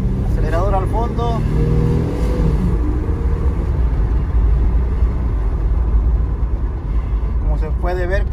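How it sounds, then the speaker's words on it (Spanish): A 2003 Chevy Trailblazer engine with a faulty temperature sensor, floored and running steady and loud with a droning roar throughout, while someone talks over it near the start and end. "Acelerador al fondo."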